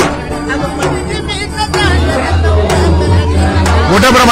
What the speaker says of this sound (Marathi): मोठ्या प्रमाणात भाविकांची अलोट गर्दी